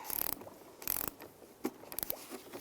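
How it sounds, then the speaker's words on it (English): A ratchet turning a 10mm socket snugs a bolt on a 2007-18 Jeep Wrangler thermostat housing, giving several short bursts of quick clicking pawl sounds up close with brief pauses between strokes. "it's a 10mm socket. And I'm just going to snug it up."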